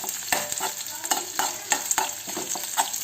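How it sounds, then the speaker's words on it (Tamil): Onions sauté in a pan over a low flame, with a steady soft sizzle under repeated scraping strokes of a spoon stirring them, close up and without talk. "பாருங்கள், மெதுவாக இப்படி போட்டு நம்ம வதக்குவோம்."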